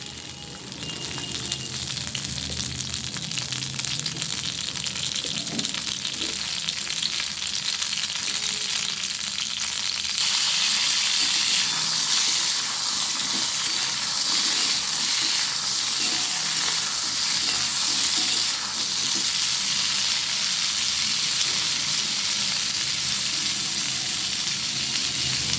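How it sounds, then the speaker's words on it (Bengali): Flat beans fry in hot oil in a heated wok, a loud continuous sizzle that holds steady and close for the whole stretch, with faint stirring scrapes beneath and no talk. "আমি এবারে শিমগুলো ভালো করে ভেজে নেব।"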